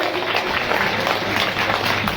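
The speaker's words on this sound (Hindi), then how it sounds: "एक बार जोरदार तालियां" A crowd claps loudly and steadily for a girl's performance at the Bissau Ramleela 2025 stage event, with dense, continuous applause close by.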